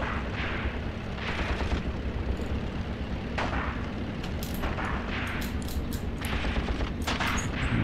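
Dense gunfire in the WWII video game Tank Warfare: Tunisia 1943 at Longstop Hill, with a Lee Enfield rifle in use instead of a machine gun. Loud shots and bursts overlap in a steady, unbroken fusillade, with sharper cracks standing out near the middle and end.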